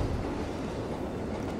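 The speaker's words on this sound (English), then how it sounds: "On top of a train." A train in the Black Ops Cold War video game gives a steady low rumble with rail noise, unbroken and fairly loud for the whole stretch.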